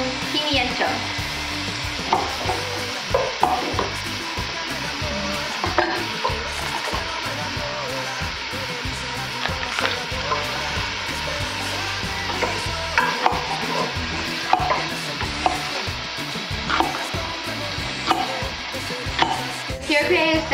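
Peppers frying in a pan while being stirred, a continuous close sizzle broken by frequent scraping and clinking strokes of a utensil, steady throughout.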